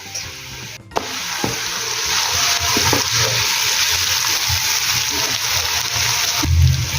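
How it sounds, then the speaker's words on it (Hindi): Garlic ginger paste hits a pan of lightly golden fried onions and sizzles steadily, a broad close hiss that runs almost without break, with a few soft scrapes and knocks. Cooking for a potato capsicum dish. "अब हम इसमें डालेंगे लहसुन अदरक का पेस्ट"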